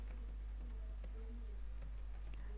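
Typing on a computer keyboard at a MySQL prompt: faint, quick, irregular key clicks over a low steady hum, with no talk.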